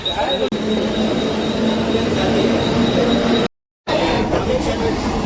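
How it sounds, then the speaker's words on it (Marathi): A rumbling train pulls in with a faint steady whine, broken by a brief moment of silence, then the rumble resumes. "चलो ट्रेन आली, चल पटकन."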